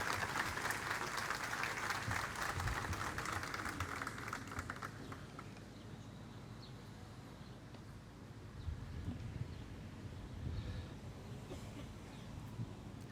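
An audience applauds at the opening of a municipal employment office in Bakırköy, Istanbul, as a speaker is invited to the microphone. The clapping is dense for about five seconds, then thins into outdoor wind noise and murmur.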